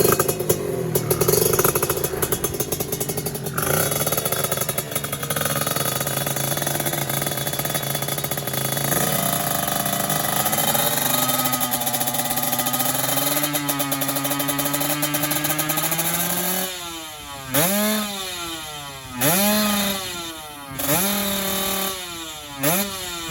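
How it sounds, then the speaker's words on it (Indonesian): A modified 1996 Kawasaki Ninja motorcycle with a loud aftermarket exhaust idles with a harsh, raspy drone, then revs sharply several times near the end, each throttle blip rising and falling loudly. "kalau dekat warga tuh knalpot kayak gini tuh berisik"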